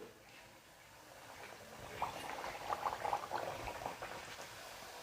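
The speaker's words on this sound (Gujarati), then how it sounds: "હવે આપણું તેલ ગરમ થઈ ગયું છે, તો આપણે આ પૂરી તળી લઈશું બરાબર" Semolina puris deep-frying in hot oil give a faint, quiet bubbling that swells into a denser fizz of small pops midway, with no talk.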